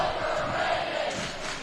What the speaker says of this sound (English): The crowd is chanting overrated to Logan Patterson right now.